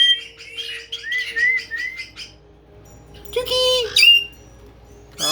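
A pet bird chirps in rapid bursts of bright tweets up close, then pauses and lets out a louder squawking call, with soft room noise between calls.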